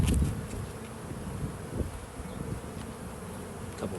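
Honey bees buzz steadily around an open hive during an inspection, a close, continuous drone with a few brief bumps and no voices.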